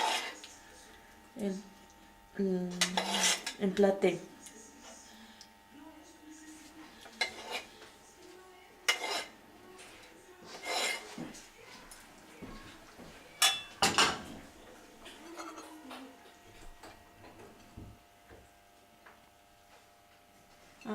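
Dishes and cutlery clinking as boiled meat and sausages are plated, scattered irregular clinks and taps, fairly close, with quiet talk between them.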